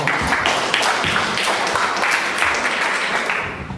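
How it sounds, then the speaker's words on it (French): An audience at a bioethics expert panel applauds, a thick continuous wash of many hands clapping, fairly close and full, tapering slightly toward the end. "on peut encore applaudir"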